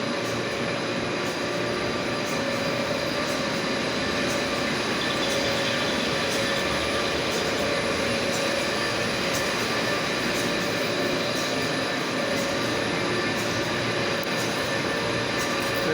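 Steady, loud machinery drones without pause inside a factory, a broad continuous hum with layered tonal whine and no distinct breaks throughout.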